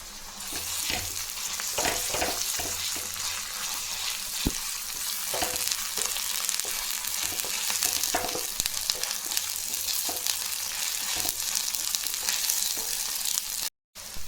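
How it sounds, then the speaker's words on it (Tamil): Onions sautéing with ginger garlic paste in a pan make a continuous close sizzle, broken by frequent spatula stirs and scrapes, with no talking. "நல்லா பொன்னிறமாக வதக்கலாம். கொஞ்சமாக இஞ்சி பூண்டு பேஸ்ட்டு,"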